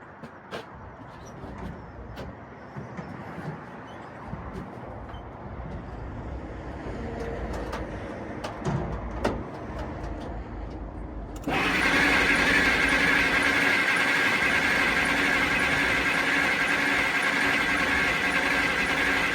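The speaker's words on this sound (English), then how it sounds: "this is the first start" A 1940 Dodge VFA32 truck engine fires up for the first time, shifting abruptly from low background rumble and clatter to a loud, steady broadband running roar that holds to the end.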